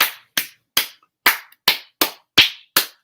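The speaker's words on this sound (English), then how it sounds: "We clapped the drum rhythm in our churches" Eight sharp hand claps tapping out a drum rhythm in an even, steady beat, close and crisp with silence between each clap.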